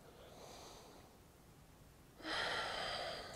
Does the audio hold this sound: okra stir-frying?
no